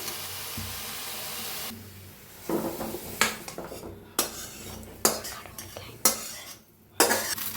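Roasted bottle gourd is scraped and stirred out of a pan onto a plate, with several sharp spoon-on-metal clinks and scraping bursts in an irregular rhythm, close and fairly loud, with no voices.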